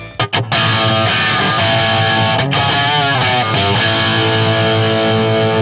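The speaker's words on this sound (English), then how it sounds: "I'm now switching to the ultra gain channel lead mode and setting the gain at 11 o'clock for a crunch tone" Overdriven electric guitar through an amp's ultra gain channel in lead mode, gain at 11 o'clock, no reverb, with a gritty crunch tone, loud and sustained, chords ringing out with a few brief gaps near the start.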